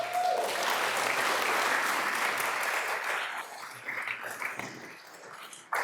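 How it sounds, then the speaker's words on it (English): An audience at a city council meeting applauds for a service award, a steady wash of clapping that gradually thins and fades out. "Please join in a round of applause for 20 years of service."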